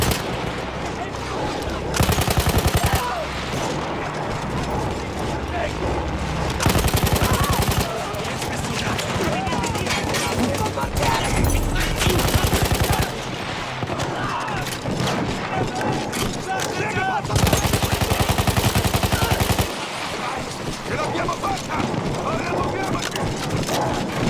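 A manned machine gun fires in Battlefield 1 on a World War I battlefield. Long, loud bursts come in repeated stretches, with other gunfire and battle noise around them.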